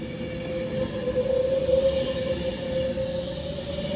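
Class 390 Pendolino electric train crawling slowly along the line toward Manchester Piccadilly, with a steady low rumble and a prominent sustained whine that swells slightly in the middle.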